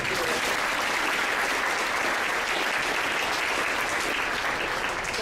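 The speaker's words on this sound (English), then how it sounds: "let's give her a round of applause." A crowd gives a loud, sustained round of applause at a 5th–12th grade band parade, steady dense clapping filling the whole stretch with some voices mixed in.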